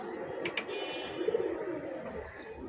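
A Giribaz pigeon with black wings and black tail, sold as a fine-quality bird, gives soft low coos in short bursts, with a few sharper high clicks early on, close by against a quiet background.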